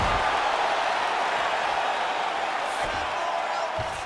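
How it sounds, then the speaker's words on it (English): A virtual arena crowd in the UFC 5 video game roars and cheers in a steady, loud wash of sound throughout, with no clear pauses. "crowd absolutely loving it as the fighters, however compromised, make their way back to the feet"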